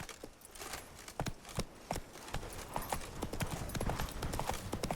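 Roach, the horse in The Witcher 3, gallops with rapid, rhythmic hoofbeats, loud and close. Faint game sounds and a brief voice sit underneath.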